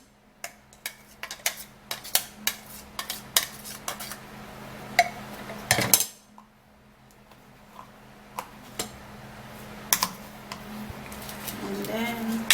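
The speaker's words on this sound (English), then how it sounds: "so now I would have to be sieving the tomato out also" Metal utensil clinks and scrapes against a bowl or pot while tomato is pushed through a sieve in a kitchen, a steady run of sharp taps with one louder rasping sweep midway, fairly close and alone.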